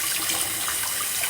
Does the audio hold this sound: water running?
yes